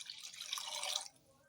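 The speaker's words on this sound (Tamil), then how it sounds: "அப்படியே தண்ணியை அப்படியே ஊற்றிக்கலாம்." Water is poured into a cooking pot while making upma: a quiet, hissing splash lasting about a second, then it stops abruptly, leaving near silence.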